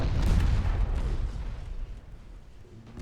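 A 9-inch naval gun firing in the warship game Ultimate Admiral Dreadnoughts: one loud, heavy boom that rolls and decays over about three seconds.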